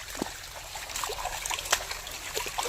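Water trickling and splashing in a forest stream where people are bathing, a steady close babble with small splatters throughout.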